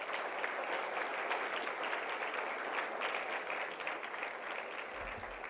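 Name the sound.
audience applause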